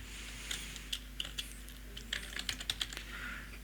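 Close, quiet tapping on a computer keyboard, irregular clicks arriving in a small burst and then a quicker run of keystrokes over a faint steady hum.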